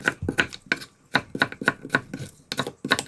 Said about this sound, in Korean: 굵은 채를 썰어주세요